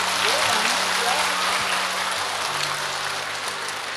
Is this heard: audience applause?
yes